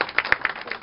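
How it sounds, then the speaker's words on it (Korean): A few scattered claps from a small audience at a Korean fathers' school gathering, brief and moderately close, with no talking. "20가지를 채워주신 형제님께 먼저 박수 한번 부탁드립니다."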